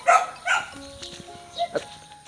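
An angry dog guarding its house territory gives a few short, fairly close barks and yips with faint background noise.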